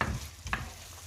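Sweet and spicy mixed seafood sauce with lemon cooking down in a pan, giving a steady close sizzle with faint stirring scrapes and a brief louder spatter partway through.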